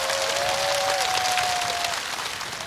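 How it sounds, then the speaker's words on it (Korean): Studio audience applause on a Korean TV singing contest, greeting a composer introduced as a judge; dense steady clapping sustained throughout, loud and close, with a faint tone gliding above it. "박수 주시기 바랍니다."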